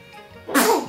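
A newborn baby gives a single short, close sneeze, a sudden burst after a quiet moment.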